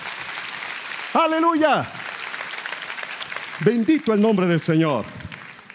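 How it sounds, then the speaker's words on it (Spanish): A church congregation claps under a preacher's loud, sung exclamations, with applause running steadily beneath the voice throughout. "Dale fuerte ese aplauso al Rey."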